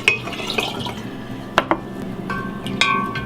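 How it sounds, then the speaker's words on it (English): Starter tea being stirred into a sweetened kombucha brew in a vessel, with soft scraping swirls and a few brief clinks of the utensil against the container, close and fairly quiet. "So I'm stirring it up, getting that starter tea all mixed in there."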